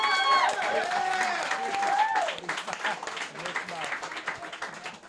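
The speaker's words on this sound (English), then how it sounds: "Come on, clap it up." Audience clapping at a roast battle tournament, a dense patter of applause with whoops and cheering voices mixed in, loud at first and thinning slightly toward the end.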